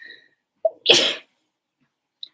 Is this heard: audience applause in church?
no